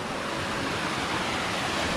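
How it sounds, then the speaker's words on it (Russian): Mountain water pours and splashes over rocks near an emerald lake among the Crimean mountains near Sudak, a steady close rushing wash with no voices. "как водичка стекает здесь"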